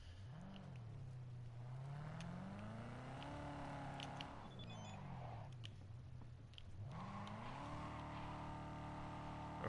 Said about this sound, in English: we're gonna actually see how this car drives